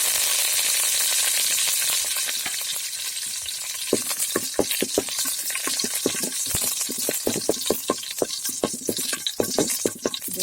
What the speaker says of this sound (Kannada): ಸಾಸಿವೆ ಸಿಡಿತಾ ಇದೆ, ಕರಿಬೇವಿನ ಸೊಪ್ಪು ಹಾಕ್ತಿದ್ದೀನಿ.